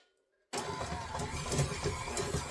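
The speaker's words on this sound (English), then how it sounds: "I've got it on like number 3 on my mixer just to get that going" An electric stand mixer running at a medium speed creams room-temperature salted butter with sugar for chocolate chip pretzel bars, starting abruptly after a quiet moment into a steady, close mechanical whir with a faint rhythmic grinding.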